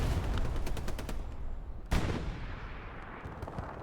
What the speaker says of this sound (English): Did you hear that explosion there on the beach? That might have been an AT cannon.